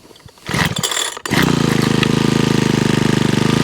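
A Honda HHH25 engine kicks into life after a brief sputtering attempt, then settles into a loud, steady, rapid idle with a fast pulsing beat, close up and alone.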